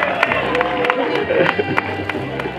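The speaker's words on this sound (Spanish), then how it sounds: "Un aplauso para el ganador" Crowd at an outdoor potato tortilla contest claps and cheers for the winner, a short burst of scattered hand claps over lively chatter and shouts.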